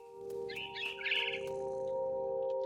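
A mama bird calls in a video game, with a few bright, close chirps and trills over a steady tonal hum from the game's background.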